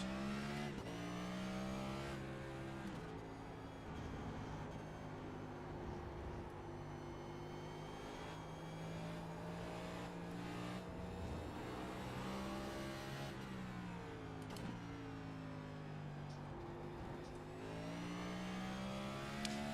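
A NextGen race car in the iRacing game at Circuit of the Americas West, its engine droning and climbing in pitch, with several clear drops as gears change and the revs swing up and down throughout.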